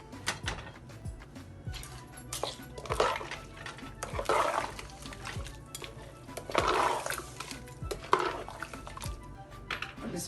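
Water is poured in several cup-sized pours into a pot of washed rice with spices and tomato for shola, with splashing bursts and clinks of a cup against the pot at close range and no talk.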